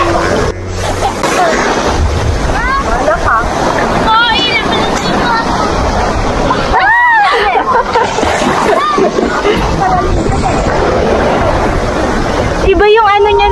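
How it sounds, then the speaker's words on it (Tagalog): Waves crash and splash loudly under gusting wind on a Boracay beach, with people talking and calling out over the surf. "Ang lakas ng alon, no?"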